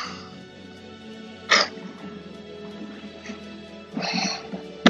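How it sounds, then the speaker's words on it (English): Two short, noisy bursts of nose blowing, one near the start and a longer one near the end, over faint background sound. "I just blow my nose"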